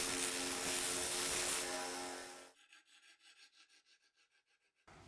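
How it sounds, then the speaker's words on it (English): A continuous loud sanding or routing rasp runs for about two and a half seconds as corners of a plexiglass panel are rounded, then gives way to a series of quick, quieter rhythmic rubbing strokes. "I'm going to round the corners on the plexiglass instead."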